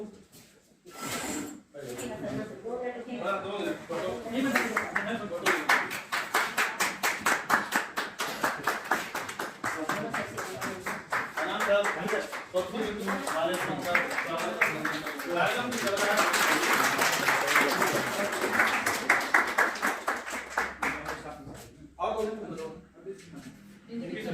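Sustained clapping and applause from a gathering at a school staff farewell party, scattered at first and then building into dense, steady clapping for about twenty seconds before fading, with voices faintly underneath.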